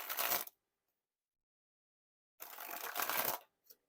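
A deck of Bicycle Street Art playing cards is sprung from hand to hand in two quick riffling bursts, crisp and close, separated by silence, with a tiny flick at the end.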